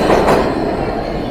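A New York City subway train passes through a station, a loud steady roar of wheels and rails with a brief squeal early on, no voices.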